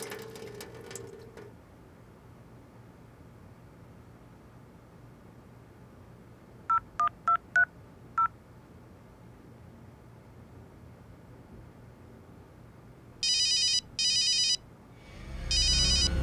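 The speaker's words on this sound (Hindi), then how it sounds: "फोन की आवाज तो बाहर से आ रही" Several quick dialing tones, then two bursts of a bright electronic phone ring, fairly loud against a quiet background, followed by a rising rumble.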